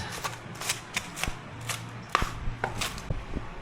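Knife chopping coriander and onion on a cutting board at home for momo filling: a string of sharp, irregular tok-tok strikes, close and moderately loud, with no talking.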